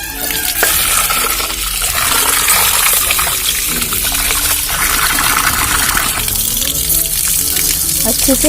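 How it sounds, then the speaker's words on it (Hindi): Water runs and splashes steadily while rice is washed by hand in a home kitchen, a continuous close rushing sound with some stirring and clatter throughout. "मैं चावल को धोकर अच्छे से भिगो कर रख दूंगी"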